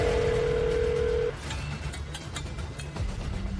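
A telephone in a drama scene sounds a steady dial or ring tone for over a second, then falls quiet, leaving a few faint ticks and a low background hum.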